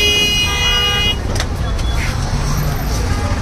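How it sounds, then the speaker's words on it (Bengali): Heavy evening traffic jam on a Dhaka street at 9 pm, with a dense, steady roar of engines and road noise, a sustained horn-like tone early on, and someone talking over the din. "তো রাত 9টা বাজে, রাস্তায় ট্রাফিক জ্যাম"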